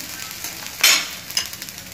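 An egg frying in a hot pan for an egg burger, a steady close sizzle with a brief louder burst of hissing and a smaller crackle after it.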